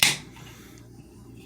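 A can of Rise drink is cracked open: one sharp hiss-snap right at the start, close to the mic, fading fast into near quiet.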